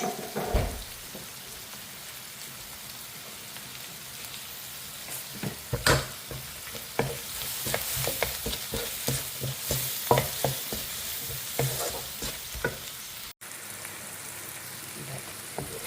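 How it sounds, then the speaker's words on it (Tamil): Food sautés with salt and pepper in a pan, giving a continuous sizzle broken by many close stirring scrapes and clatters, busiest in the middle. "இந்த அளவுக்கு வதங்கினா போதும்"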